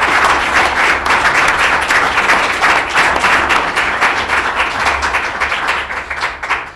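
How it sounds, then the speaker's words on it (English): Sustained, loud applause from a conference audience for a law panel on Baker v. Carr and reapportionment, a thick, even roar of many hands clapping that tapers slightly at the end. "give a round of applause to this panel"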